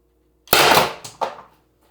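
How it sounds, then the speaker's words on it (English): Byrna LE launcher firing its last 4.6g LLB round, a single sharp close pop with a brief trailing hiss, followed by a second shorter burst of gas. "that was the last shot"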